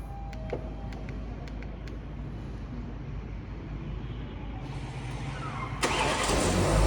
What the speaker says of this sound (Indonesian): Ini adalah fitur remote engine start yang sangat berfungsi apabila di pagi hari kita ingin menghidupkan mesin